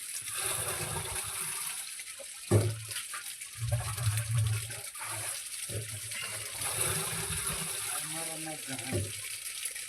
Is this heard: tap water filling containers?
yes